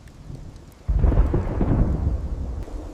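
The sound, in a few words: thunderstorm with rain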